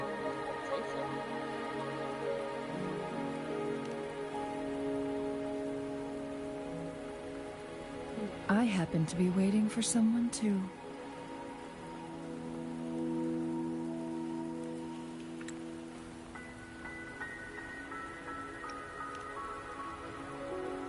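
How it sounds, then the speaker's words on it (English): Rain falls steadily in the video game Wuthering Waves, a soft continuous patter under game music and a voiced line of dialogue. "Are you trapped here by the rain?"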